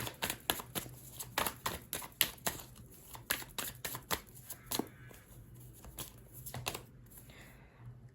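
A deck of tarot cards is shuffled up close, giving a run of quick crisp riffling snaps and soft flutters that slow and thin out toward the end, with no voices.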